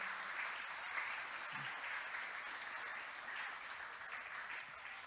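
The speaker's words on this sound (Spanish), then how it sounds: "Dale ese aplauso fuerte al Señor" A church congregation applauds loudly during a Spanish-language worship service, an even, dense roar of clapping sustained from start to finish without any speech.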